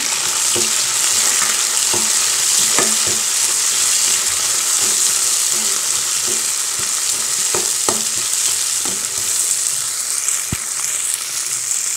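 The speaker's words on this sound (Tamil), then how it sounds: "தக்காளியும் நல்லா வதக்கலாம்" Small onions and tomatoes sautéing in a pan for a South Indian ladies' finger tamarind curry: a loud, continuous sizzle with repeated clinks and scrapes of stirring, close up and without speech.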